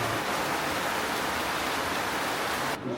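Heavy rain pours down outside, a loud, unbroken hiss of falling water that fills the whole stretch before cutting off abruptly near the end, with no talking over it.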